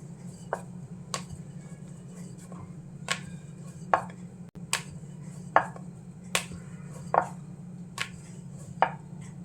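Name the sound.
rolling out samosa dough ball with rolling pin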